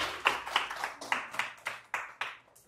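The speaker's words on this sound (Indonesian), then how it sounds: "Tepuk tangan dulu untuk mereka." A small church gathering clapping hands in a loose rhythm of about nine sharp claps over a few seconds, nearby and moderately loud.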